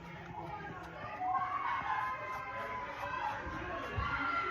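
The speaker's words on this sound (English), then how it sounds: "I apologize for the noise. I'm still at that birthday party." Background crowd of children chattering and shouting at a birthday party, a lively indistinct hubbub with occasional higher squeals, somewhat distant.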